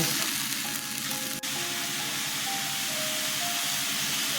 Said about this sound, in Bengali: পেঁয়াজ আদা কাঁচা লঙ্কা আর টমেটো এটা এখন কষিয়ে নেব ভালো করে